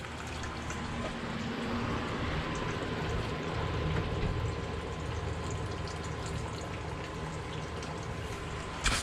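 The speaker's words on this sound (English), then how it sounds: "All right, now it's draining." Coolant draining from a Dodge Avenger in a steady, faint pouring trickle of liquid, continuous and alone without talk.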